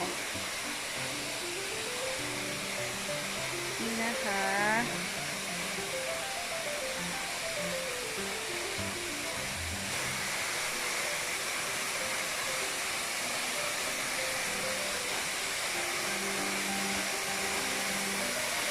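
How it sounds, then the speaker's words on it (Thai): Broadband rushing roar of Pha Dat Fa waterfall, a strong nature cascade, heard steadily throughout at moderate loudness with music-like tonal traces over the water. "น้ำตก"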